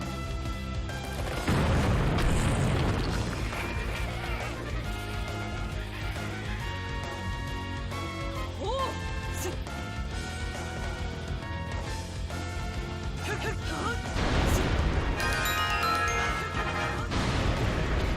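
Bomb explosions in the Switch game Hyrule Warriors, two heavy crashing booms about thirteen seconds apart, with game music playing continuously underneath.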